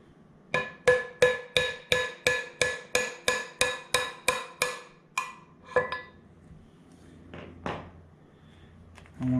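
A hammer strikes a metal bolt about a dozen times in a quick, even rhythm while repairing a spin bike flywheel, loud and close, followed by a few scattered knocks and clatters.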